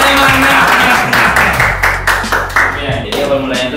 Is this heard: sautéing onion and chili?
no